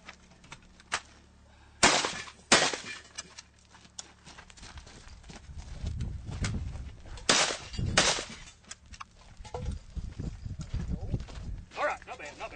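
Shotgun blasts knocking down steel targets: roughly four sharp, loud cracks in two pairs, each quickly followed by a ringing clang, with talk and ambient noise between them.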